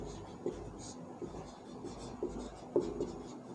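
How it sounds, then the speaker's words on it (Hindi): Chalk or marker scratches on a board as a maths teacher sketches a height-and-distance diagram: a few soft, quiet strokes spaced about a second apart over low room noise, with no speech. "तो अब देखो चित्र में लिखते हैं पहले अपन"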